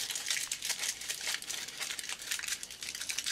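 Thin tin foil being wadded into a rough lump by hand, a quiet, continuous crinkling and crackling with dense papery rustles and no talk.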